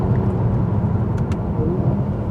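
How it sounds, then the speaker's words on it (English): A 400 hp Mercedes C43 AMG drones steadily through deep, low engine rumble while downshifting on the road, heard from inside the car with no clear rev spikes. "I think my favourite though is going down the gears."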